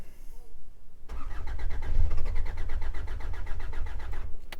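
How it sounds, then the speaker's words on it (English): Hyundai Santa Fe with a crank-no-start fault and excessive fuel pressure, its starter cranking the engine in a fast, even, rhythmic churn that runs for several seconds after a brief quiet lead-in, recorded close. "So, I'll crank this over and let you see what we're getting now."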